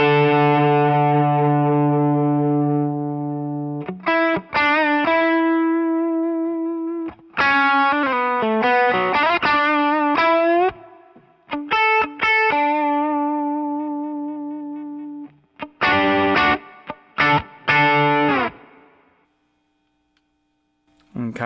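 Electric guitar through a Cornerstone Antique V3 overdrive pedal plays a string of sustained chords and short bursts with pauses between, loud and close, with a gritty distorted edge.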